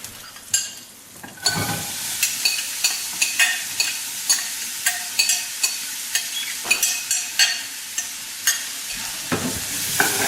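Onions stirred into hot oil with browned cumin seeds for a curry, a steady close sizzle broken by repeated scraping strokes of a spoon across the pan, no talking.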